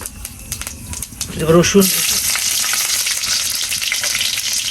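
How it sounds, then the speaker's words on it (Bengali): Cumin and garlic hit hot oil in a pan for eggplant bhaji, bursting into a loud, sustained sizzle after a moment of voice and stirring clatter. "এদিকে আমি একটু ভাজি করব, বেগুন ভাজি, সঙ্গে একটু জিরা দিলাম, দেব একটু রসুন"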